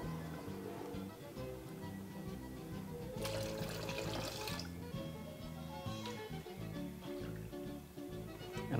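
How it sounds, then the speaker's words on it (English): Water is poured into a baking dish around ramekins of molten chocolate lava cake batter, a short splashing pour of a few seconds rising over steady background music. "just add a bit of water on the inside"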